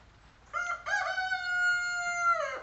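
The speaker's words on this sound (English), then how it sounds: "Chicken says amen." A rooster crows once, a clear drawn-out cock-a-doodle-doo with a rising start and a falling tail, close and prominent over a quiet background with no talking.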